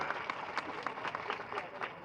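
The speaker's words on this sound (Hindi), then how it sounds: "जोरदार ताली बजा के स्वागत कराई इजहार का" A crowd at a political rally claps steadily in a dense, continuous wash of applause, heard somewhat faint and distant, welcoming Izhar.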